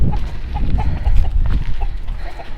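Chickens and cockerels in a hillside village near Mount Pinatubo in the Philippines cluck in quick, repeated, fairly close calls over a rumbling outdoor background.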